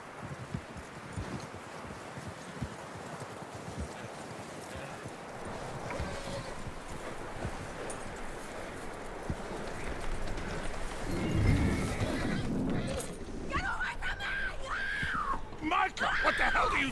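Horse hooves clip-clop steadily over rough ground in Red Dead Redemption 2, with a snort or whinny later, mixed with game ambience and shouts.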